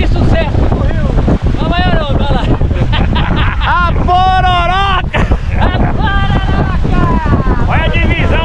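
A pororoca tidal bore wave rolling along the Paraná river, a loud, continuous rushing roar of water mixed with heavy wind buffeting, while excited voices call out and shout over it throughout.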